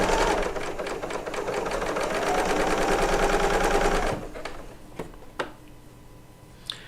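Serger overlocker trimming loose thread whiskers off quilt fabric, a close, steady rapid whirr lasting about four seconds before stopping, followed by a few faint handling taps.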